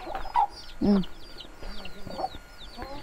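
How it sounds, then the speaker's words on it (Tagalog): Chickens cluck in short, scattered bursts, some louder and closer, with faint background voices. "Daming manok nila, oh."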